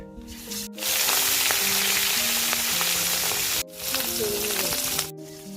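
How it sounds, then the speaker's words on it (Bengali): Loud, steady sizzling of fish frying in hot oil, broken by two brief pauses, with a voice talking faintly underneath. "কড়াই মাছ দিয়ে দিব"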